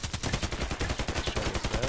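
Rapid automatic fire from an SA-58 rifle in a first-person shooter, a steady fast stream of loud, close shots with an even rhythm throughout.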